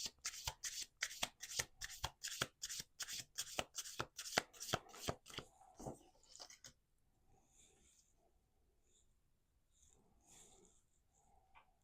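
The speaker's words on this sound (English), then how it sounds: "Let's do 2 more shuffles" Rapid, rhythmic riffling of playing cards for about six seconds, then quiet with faint snuffling breaths in the background.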